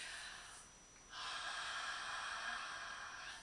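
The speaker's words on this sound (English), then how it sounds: "it's like this sort of like raspy oceanic sound that you make by breathing in and out of your nose" Ujjayi breathing through the nose with a constricted throat, a raspy, ocean-like hiss that swells into a long, steady breath after a softer start, close and alone.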